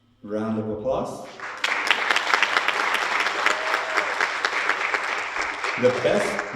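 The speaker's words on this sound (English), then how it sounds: "Round of applause." Pageant audience applause swells after a brief spoken announcement, then continues as loud, continuous clapping with sharp individual claps standing out, and a voice returns faintly near the end.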